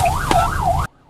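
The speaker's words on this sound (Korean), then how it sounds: "신고를 받고 현장으로 출동하는 구급차" Ambulance siren wailing in a smooth rising-and-falling sweep as the vehicle races to an emergency call in Ansan, South Korea, loud and close over low engine rumble, cutting off abruptly near the end.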